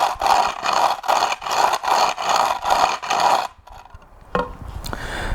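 A wooden board rubbed hard along concrete, with the grain, to roughen its surface: about seven loud, rhythmic rasping strokes close by, then a pause, a knock and quieter scraping.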